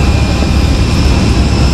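Steady airplane cabin engine roar during a flight, loud and continuous, with a low rumble and a constant high hiss and no speech.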